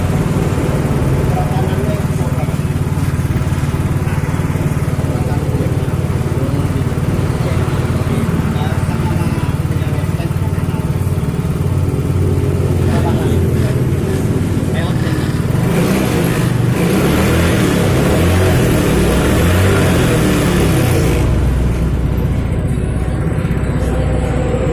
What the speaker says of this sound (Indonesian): Ini cuk otomatis lagi masih bekerja, dia langsam agak tinggi